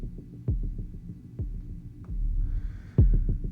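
Electronic rumble from a sampled kick drum sequenced on an Ableton Move and Eurorack modular setup: deep repeated thuds roughly every half second to second, with a low droning hum in between and a faint hiss near the end.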